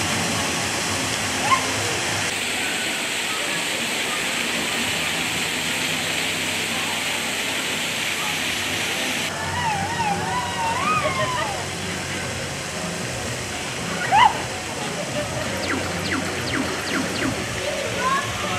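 Water sprays and splashes steadily on a Lego-themed interactive water ride at Legoland Florida, where riders aim at targets, forming a continuous rushing wash with faint voices and small sounds in the background.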